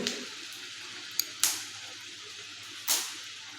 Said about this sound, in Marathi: आता आपण ही दोन्ही साईडनी चांगली तळून घेऊया